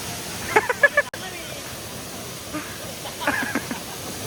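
A waterfall roars as a steady, broadband rush of falling water, with people talking briefly over it.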